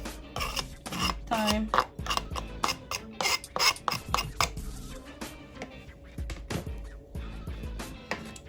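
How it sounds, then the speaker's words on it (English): A knife chops hot pepper for saltfish fritters in a home kitchen, giving a run of irregular sharp taps and clacks against the cutting board. A brief spoken word breaks in partway through. "So I cut up my pepper and I'm thinking this pepper is really hot"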